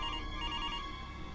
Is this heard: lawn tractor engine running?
no